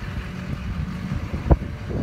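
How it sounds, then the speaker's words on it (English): A 2005 Chevrolet Silverado 2500HD crew cab 4x4 with the 6.6-litre Duramax diesel idles steadily with a low, even rumble, close and continuous, with one brief knock partway through. "Again, clean running diesel."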